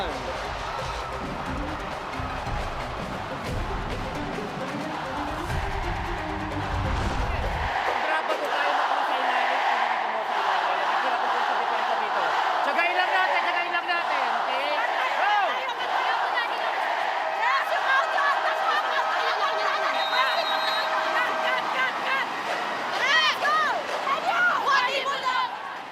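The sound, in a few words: massive crowd cheering at Smart Araneta Coliseum volleyball game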